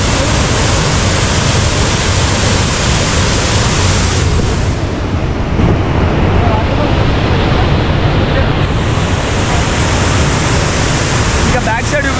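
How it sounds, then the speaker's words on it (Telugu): Pochara waterfall roaring as a steady, loud broadband rush of falling water, unbroken throughout and close by. "వాటర్ ఫాల్ సౌండ్ మాత్రం అసలు పిచ్చి క్రేజ్ ఉంది."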